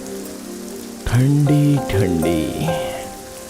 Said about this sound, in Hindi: बाहर आया तो ये जोरों की बारिश शुरू हो गई